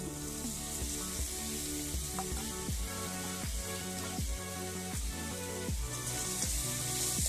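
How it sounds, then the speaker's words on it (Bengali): Rice frying with spices in a pan, a continuous soft sizzle broken by regular scraping stirs, steady and close with no voices. "চালটা মশলার সাথে ভালো করে ভেজে নেব।"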